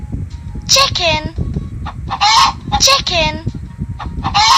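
Repeated electronic chicken clucks from a baby jigsaw puzzle toy, four bright bursts in a steady rhythm, close and fairly loud.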